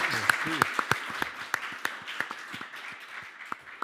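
Sparse applause at a civic event in Laval greets the city's mayor, with individual claps standing out over a quieter spread of clapping while a voice speaks over the start.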